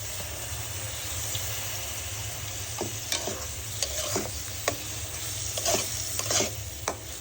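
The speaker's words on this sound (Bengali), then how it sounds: "শুটকিটাকে একটু কষিয়ে নিব।" Dried chela fish sautés in a pan, a low steady sizzle with scattered sharp scrapes and clinks of a spatula stirring against the metal, close up and without talk.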